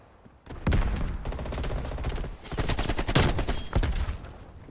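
Rapid AK rifle gunfire in a video game: dense automatic bursts fire continuously and loudly for most of the clip, with short gaps between volleys and a final burst near the end.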